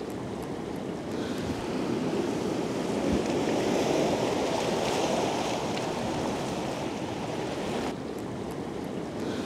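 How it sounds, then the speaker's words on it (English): Sea waves crash and wash ashore on a windswept coast, a continuous broad roar that swells in the middle and eases again, with some wind buffeting the microphone. "The right waves were few and far between, but I never tire of watching and listening to them crash ashore"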